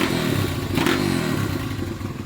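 A 120cc dirt bike engine running after carburettor tuning, a loud, close buzzing idle with a brief rev burst and some clattering mechanical noise.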